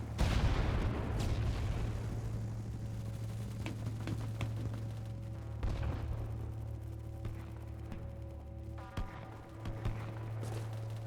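A grenade blast in a video game, a dense rumbling boom at the start that trails into sustained low roar and scattered gunfire-like cracks, loud and continuous throughout.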